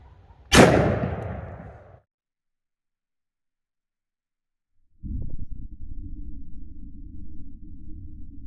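A .44 Magnum or .454 Casull handgun fires once into ballistic gel, a single sharp, loud crack with a short ringing tail, then silence followed by a steady low rumble.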